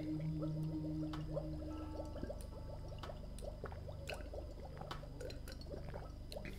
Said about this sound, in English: Steve will collect the water.